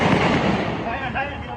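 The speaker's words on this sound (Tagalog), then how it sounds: "Sinundan ito ng sunod-sunod na putok ng baril." Gunfire after a grenade explosion during a soldiers' chase in the Philippines, a dense loud burst of rapid shots with a voice talking over it.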